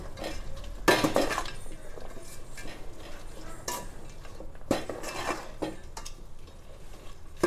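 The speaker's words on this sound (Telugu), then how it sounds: "అల్లం పేస్ట్, అది వేసుకోవాలి. అలాగే కరివేపాకు, కొత్తిమీర కూడా వేసుకోవాలి. ఒకసారి మొత్తం కలిపేసుకోవాలి." A utensil stirs ginger paste, curry leaves and coriander in a metal pot, making repeated scraping clanks and clinks of metal on metal at irregular intervals.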